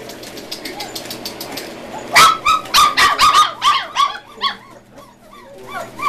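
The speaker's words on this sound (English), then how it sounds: "Puppies!" Puppies bark and yip in quick bursts with soft whimpers between, close by, while a person talks over them.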